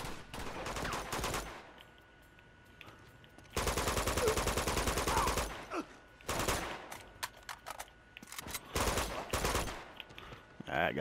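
Automatic weapon fire in Uncharted 2 during a monastery firefight: several rapid bursts of gunshots, loud and close, separated by short gaps and interspersed with lighter shots.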